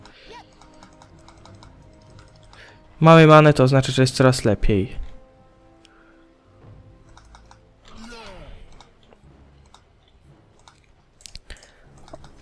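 Fast clattering computer keyboard typing with a sharp Enter press, a dense burst of keystrokes followed by scattered clicks, with someone speaking in between.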